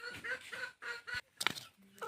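Growing chicks, now nearly full-sized, cluck in short repeated bursts close by, with a few sharper chirps and calls toward the end.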